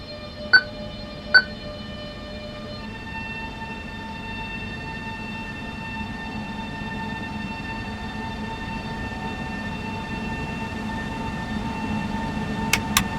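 A steady, rumbling train in the video game SimRail runs along the track with a continuous low roar, marked by a couple of short electronic ETCS beeps and tones near the start.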